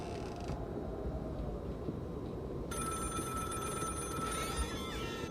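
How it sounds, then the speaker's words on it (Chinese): A telephone bell ringing in the horror video game The Cabin Factory, starting partway through as a loud, continuous trill with a rattling tone over a low dark rumble. "哦，有电话"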